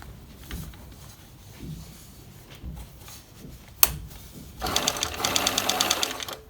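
A Bernina 730 sewing machine zigzag-stitches a button in place, its rapid needle chatter starting abruptly after a few soft handling clicks and running steadily and close until the end.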